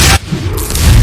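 Ship cannons in Assassin's Creed Rogue, a loud close boom at the start, then a rumbling roar of broadside fire and splashing that swells again toward the end.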